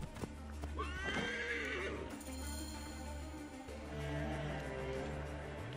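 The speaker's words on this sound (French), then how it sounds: "Je vais appeler mon cheval" A horse summoned in a video game whinnies and its hooves clip-clop steadily, loud and close, over a continuous bed of game music.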